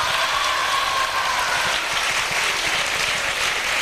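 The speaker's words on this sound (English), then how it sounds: "Vyasa House deserves a big round of applause." Dense, steady applause from a school audience at a house masquerade performance, carrying on without a break from start to finish.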